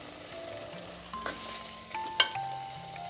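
Mutton korma masala with baby potatoes sizzles steadily in a pan while it is stirred, with a few louder scraping clinks over the constant frying hiss.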